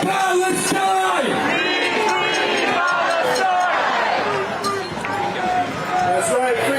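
A large crowd of protesters gathering to march against Netanyahu's visit to Congress, with loud whoops, yells and overlapping voices filling the air close by and continuously.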